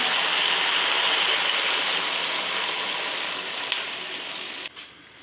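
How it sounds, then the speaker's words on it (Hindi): Water pours steadily into a pot of rice for a potato and chicken pulao, a continuous close hissing gush that gradually eases and then stops abruptly near the end. "अभी इसमें पानी डालूंगी मैं, जितने मैंने चावल लिए थे उस हिसाब से मैं पानी डालूंगी।"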